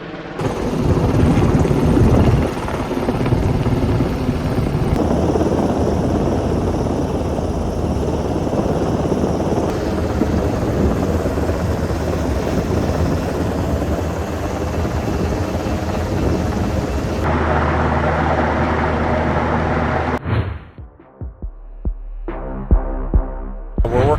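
A Black Hawk helicopter flies over line work in the hills of the countryside. Its loud, steady, throbbing rotor roar goes on for about twenty seconds, then cuts off abruptly and is followed by a few brief knocks.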